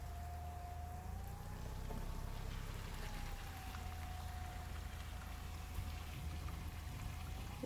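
Steady rain patters on a muddy, potholed street, a continuous close wash of drops and splashes with a low rumble underneath and no talking.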